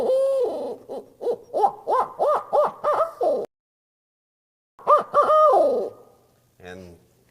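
A hand-cupped owl call imitates the laughing hoots of a barred owl, used in turkey hunting, with a rapid rising series of loud close hoots, a pause, then a shorter burst ending in a low note.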